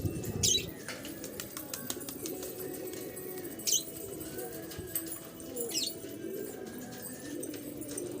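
Pigeons coo softly with low, repeated calls, punctuated by a few sharp flutters of wings, mixed with faint background noise.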